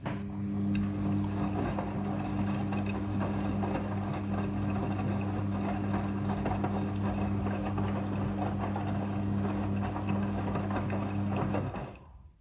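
A front-loading washing machine running its second water rinse cycle, a steady mechanical hum with a low tonal drone and faint sloshing, loud and continuous for about twelve seconds before stopping abruptly.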